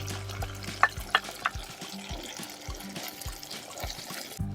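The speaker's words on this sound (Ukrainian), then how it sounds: "Ну а далі запускаємо цибульку. У нас три здоровенних. І все все разом обсмажуємо." Onions fry with smoked salt pork in a cauldron over an open fire for Transcarpathian bograch, giving a soft steady sizzle broken by a few scraping stirs and clinks early on, close and quiet, with no talking.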